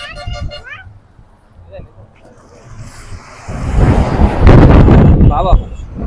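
Strong wind buffets a phone microphone outdoors on a roadside during a family wedding trip, swelling into a loud, rumbling roar in the second half, with people talking before and through it.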